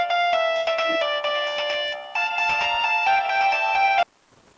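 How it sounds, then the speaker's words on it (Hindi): A mobile phone ringtone plays loud and close as a steady melodic tone pattern, with no voices over it, then stops abruptly after about four seconds. "किसका फोन बाज गया?"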